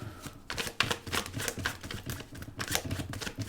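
Tarot cards are shuffled by hand in a steady run of crisp, rapid riffling and slapping bursts. The sound is close, moderately loud, and heard alone without speech.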